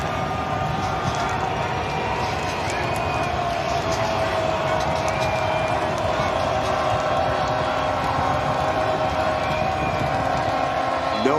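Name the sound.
sellout football crowd cheering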